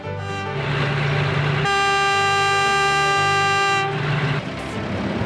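A BNSF freight train on railroad tracks near West Duluth sounds a loud, sustained horn blast for about two seconds over steady rumbling wheels and engine noise that continues throughout.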